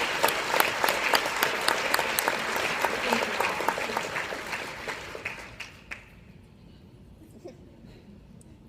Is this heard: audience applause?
yes